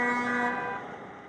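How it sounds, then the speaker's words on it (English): Truck horns honk at a Flying J truck stop in southern Alberta where convoy drivers and supporters gather, one loud sustained blast that fades within about a second over a low rumble of engines. "Honking horns and roaring engines"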